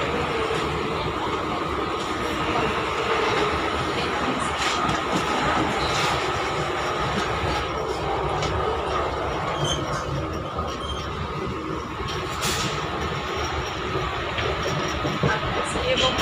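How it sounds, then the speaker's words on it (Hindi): A Mumbai local train runs with a continuous rumble and rattle of wheels and carriages, with occasional brief squeals and clanks over several seconds, and a voice faintly present at times. "मुंबई का ट्रेन है, इसमें आनंद लीजिए और सफ़र करते रहिए।"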